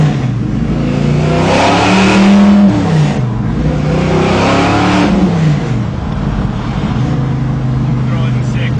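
Engine of a 750 horsepower Chevrolet Impala muscle car, a daily-driven street car, drones steadily while cruising, a low sustained rumble with a rise in pitch partway through, heard from inside the car.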